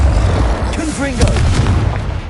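A Confringo spell explosion in the Hogwarts Legacy video game booms loudly and close with a sustained rumble, while a voice is heard briefly over the blast.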